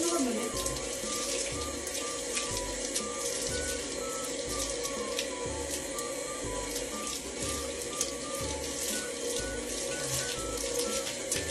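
Tap water runs steadily and close for a long stretch while shampoo and slime are rinsed out of hair, a continuous hissing splash with faint speech underneath.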